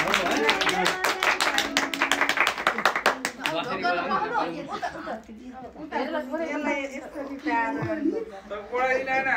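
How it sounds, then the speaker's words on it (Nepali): A few people clap their hands in a quick, rhythmic burst at a family gathering on the eve of a wedding, then the claps fade into close chatter, talk and light laughter. "ताली बजाएको ठिकै राम्रो भन्नु क्या"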